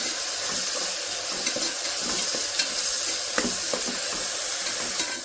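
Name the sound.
tomatoes being stirred and fried in pan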